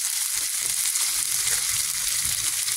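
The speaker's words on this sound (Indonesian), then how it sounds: "Jangan lupa ditumis-tumis ya guys, biar tidak gosong." Ingredients for soy sauce chicken sauté in hot oil with a dense, close, constant sizzle and faint stirring underneath, with no talk.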